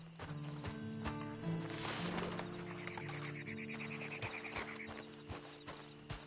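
Horse hooves clip-clop over steady game background music, with a brief snort or whinny mixed in; no voices.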